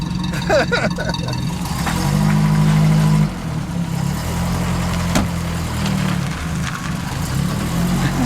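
Citroën DS engine starting up, with a starter-like whirring tone briefly followed by a loud close idling rumble that carries on steadily, with people talking over it.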